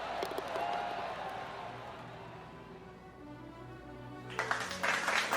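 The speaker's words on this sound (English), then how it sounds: "Round of applause." Crowd applause and cheering from a golf gallery in PGA Tour 2K23, a broad wash of clapping that rises loudly near the end of the short stretch after a quieter, steady murmur.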